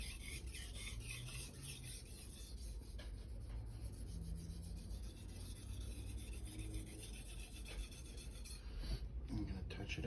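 A knife blade is worked against a Naniwa 1000/3000 grit whetstone, giving a continuous low, close rasping scrape with repeated back-and-forth strokes.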